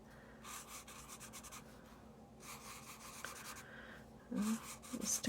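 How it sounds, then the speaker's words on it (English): Bright Sharpie markers scratch and rub across paper in soft, quiet strokes, in short bursts with brief pauses, followed by a few louder taps near the end. "we're going to just start drawing a few things"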